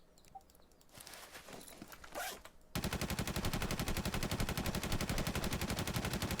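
Gunfire in a shooting video game starts as scattered bursts over background game noise. It then switches abruptly to a loud, continuous rapid-fire stream that runs steadily to the end.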